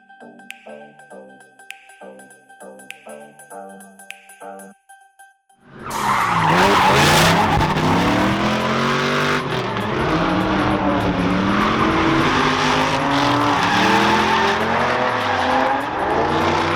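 A 1991 Nissan Skyline R32 sedan with a V8 swap and a 1995 BMW E36 M3 drift car, loud roaring engines and tyre screech kicking in abruptly after quieter tonal sounds, sustained and near with pitch swoops as revs rise and fall.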